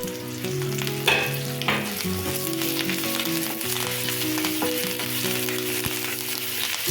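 Green chillies and curry leaves sizzle loudly in hot oil while tempering for tamarind rava pulihora, a dense, steady crackle that runs the whole time over a low, even hum.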